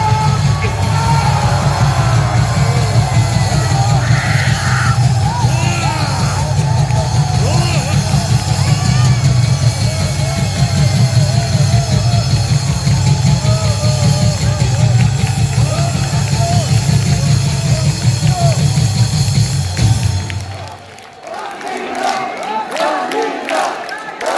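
An audience giving a standing ovation for a South Korean transport minister at a church gathering in Gyeongju: sustained loud clapping mixed with cheers and shouting for about twenty seconds, then fading as a voice begins speaking.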